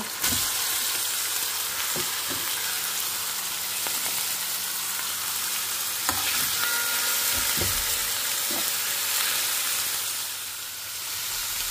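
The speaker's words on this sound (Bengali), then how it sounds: "দেখো আমি চিকেনটা দিয়ে দিচ্ছি, সব কিছুর সাথে ভালো করে মিক্স করে নিচ্ছি" Chicken for creamy chicken puff pastry filling sizzles steadily in a hot pan, with several sharp knocks and scrapes as it is stirred in, the hiss easing slightly near the end.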